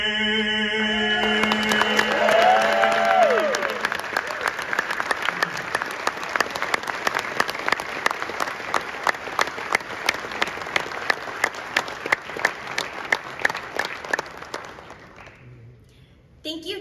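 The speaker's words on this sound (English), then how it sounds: "Let's give them another round of applause." Audience applause after a national anthem performance, a dense wash of clapping that swells loudly after a sung final note fades, then carries on steadily for over ten seconds before tapering off.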